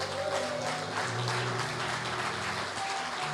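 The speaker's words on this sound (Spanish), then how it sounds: "Denle un aplauso ahí donde está." Applause from a church congregation, a dense steady wash of clapping that fills the space evenly with no break, mid-level and slightly distant, over a faint sustained musical tone.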